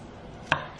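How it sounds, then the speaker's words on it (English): A single sharp knife chop through onions hits a cutting board, close and crisp, against a quiet background. "So now we're gonna cut onions"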